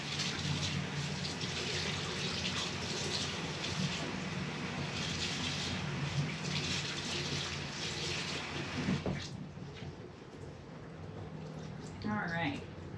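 Water runs steadily from a tap to rinse off a plant pot after repotting a lipstick plant (Aeschynanthus), a continuous close splashing wash lasting most of the clip before tapering into quieter trickles.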